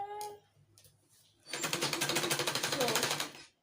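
A sewing machine stitches a belt into a wrap peplum blouse, a fast even mechanical chatter running for about two seconds after a short quiet pause.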